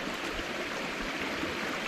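Creek water flowing in the woods beside an off-trail campsite, a constant close rushing babble with no breaks and no voices.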